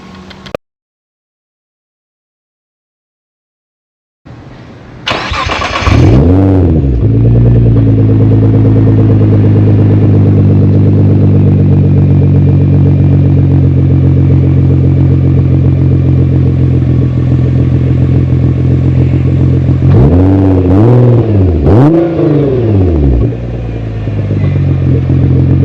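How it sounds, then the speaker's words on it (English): A Nissan GT-R engine with a 4-inch catback exhaust idles loudly, then revs up and drops back a few times, with a deep rumbling exhaust throughout and no talking. "Let's do a before and after of the exhaust"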